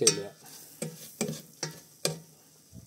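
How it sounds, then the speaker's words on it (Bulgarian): Corn grits stirred in a hot pan, with five evenly spaced scraping strokes of a spoon over a quiet, steady background sizzle. "Бъркаме без да спираме"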